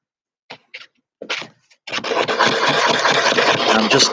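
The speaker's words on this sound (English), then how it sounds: "now the sandpaper is getting pretty ripped up there, but it's doing the job" Sandpaper rubbed back and forth on a homemade wooden handle for a sliding door: a few short scratchy strokes, then a sustained loud, close rasping scrub.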